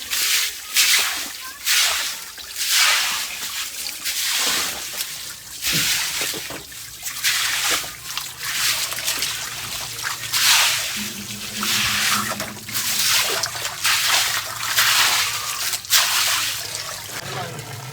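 Water from a motor-driven pump sprays and splashes continuously onto a wall and floor in hissing bursts, with the motor humming underneath and a voice speaking at times.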